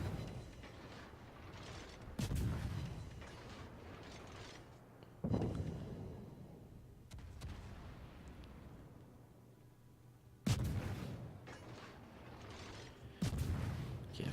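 Warship guns fire shells in a naval video game, with four heavy booming salvos spaced several seconds apart, each followed by a rumbling decay over a steady low background drone.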